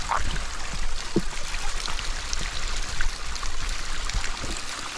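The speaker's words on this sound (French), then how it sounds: "Elle est jolie cette cascade d'eau" Steady broadband rush of a small waterfall falling and splashing, continuous and fairly near, with a few faint clicks and knocks in the background.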